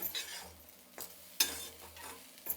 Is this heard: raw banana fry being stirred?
yes